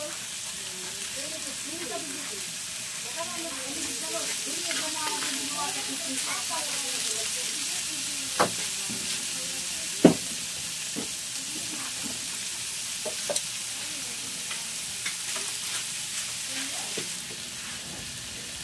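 Salmon frying in a pan with a steady, close sizzling hiss, occasional clinks and pops, and a voice talking briefly in the first half.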